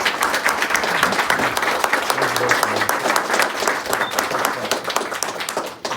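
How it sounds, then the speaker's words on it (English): Audience applause for a police sergeant being honored for heroism at a Bridgeport Police Department press conference, a dense, steady round of clapping lasting several seconds before tapering off at the end. "Give him a round of applause."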